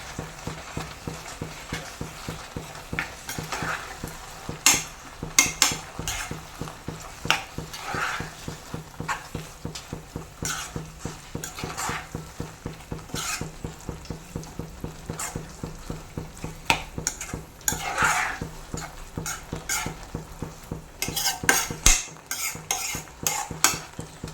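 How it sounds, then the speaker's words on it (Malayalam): Red spinach curry is stirred in a pan on the stove, a rhythmic series of close spoon scrapes and clacks repeating steadily under a soft background sizzle. "നല്ലപോലെ ഒന്ന് മിക്സ് ചെയ്ത് കൊടുക്കാം"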